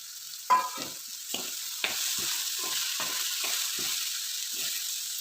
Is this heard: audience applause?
no